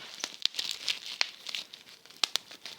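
Someone handles bubble wrap, and the plastic crinkles in soft, irregular rustles with a few sharper crackles, fairly quiet and close.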